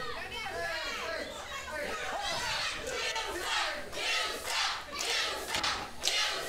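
A wrestling crowd at a tag team match chants loudly and rhythmically that the wrestlers suck, rising and falling in repeated bursts of massed shouting that fill the whole clip.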